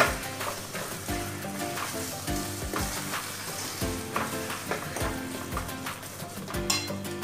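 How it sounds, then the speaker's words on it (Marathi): A sweet corn fajita, an upma-style dish topped with coriander, sizzles steadily in a frying pan while being stirred, with repeated soft scraping and clinking of a spoon against the pan throughout. "हलवून घेऊया"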